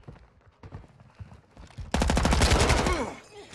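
Rapid automatic gunfire in Modern Warfare II from a Kastov 74u bursts out loud and close after a stretch of quieter in-game sounds, then tails off with echoing decay.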